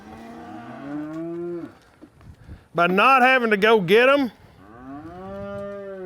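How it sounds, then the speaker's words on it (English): Heifers in a corral let out long, loud moos, one drawn-out call, then a louder wavering bellow, then another lower moo, with someone speaking briefly between the calls. "these heifers are looking for their herd mates"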